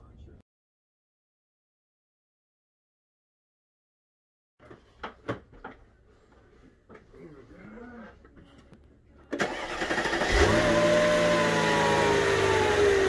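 A Mercedes-Benz M112/M113 V6/V8 engine, just repaired for a split intake manifold vacuum hose leak, cranks with clicks and a whir after silence, then catches and settles into a loud, steady idle.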